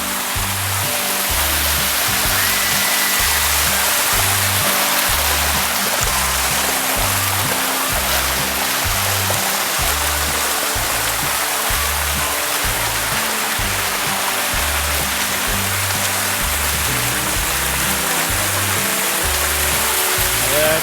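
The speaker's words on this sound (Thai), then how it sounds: "เราจะมา ตรงน้ำตกที่ใหญ่นี้นะครับ" Bua Tong waterfall near Mae Taeng, Chiang Mai, gives off a loud, unbroken roar of falling water close by, with a low rhythmic pulsing underneath and no talking for about twenty seconds.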